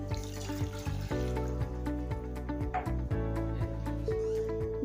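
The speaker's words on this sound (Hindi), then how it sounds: "अब हम शीरा बनाने के लिए सबसे पहले इसके अंदर पानी डालते हैं।" Water pours into a steel pan on a stove to start a sugar syrup for bread gulab jamun, a steady, bubbling gurgle with shifting ringing tones as the pan fills, alone and fairly quiet.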